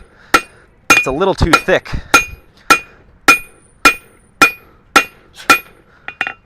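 A blacksmith's hammer flattens hot steel stock on an anvil in a series of about a dozen sharp, ringing blows at a steady rhythm. A cluster of quicker strikes comes near the start, under brief talk.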